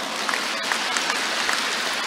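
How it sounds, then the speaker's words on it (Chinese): Audience applause at a Q&A gathering in Kuala Lumpur, Malaysia, a dense, steady burst of clapping from a crowd lasting about two seconds without talk. "对， 鼓掌。"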